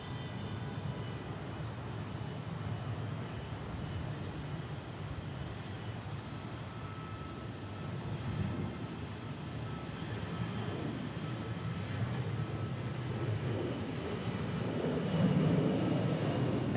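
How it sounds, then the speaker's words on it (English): An Avianca airliner in special livery departs Orlando International Airport, its broad jet roar distant and steady, swelling gradually louder toward the end with a low rumble. "So here goes Avianca back to Colombia with their special livery."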